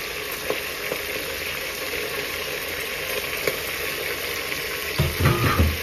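Meat for a curry fries in hot ghee with a dense, continuous sizzle and spatter, close and loud, ending in a burst of heavier bubbling, with no voice.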